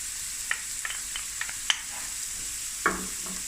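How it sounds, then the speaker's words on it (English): Onions and garlic fry quietly over medium heat in a pan, a faint steady sizzle broken by several sharp scrapes and taps of a utensil stirring, with no voices. "on a medium heat, just fry these onions and the garlic"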